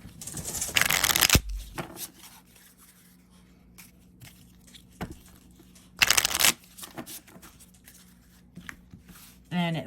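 A deck of playing cards is riffle-shuffled close up, two loud crisp bursts of rapid fluttering card snaps separated by quieter handling, with a brief riffle at the end.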